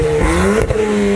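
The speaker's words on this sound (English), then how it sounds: "Oh, look at that. The GTR engine." A Nissan GT-R engine revs loudly and steadily at a night car meet in Burton, UK, a continuous close roar with a rising tone and a brief dip before it swells again.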